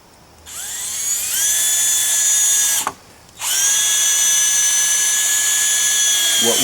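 A power drill drives 3-inch deck screws into pallet wood outdoors, two close, high whining bursts that rise in pitch as each screw runs in, separated by a short pause.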